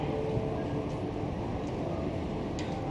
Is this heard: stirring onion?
no